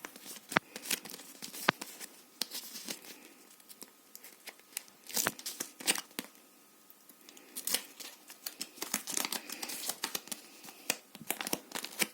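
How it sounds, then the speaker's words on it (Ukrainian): Crinkly plastic rustles and tears in repeated sharp bursts, close by, with short pauses between the rips and no talking. "я не можу відкрити з першої спроби, пакетик неможливо мені відкрити"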